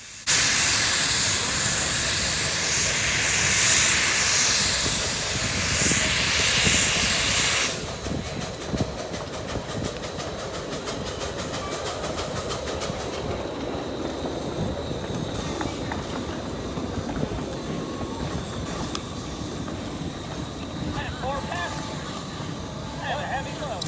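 Steam locomotive number 1 pulling into a station at a steam and power show, a loud hiss of venting steam at first, then rolling rumble and rail clatter with faint voices around.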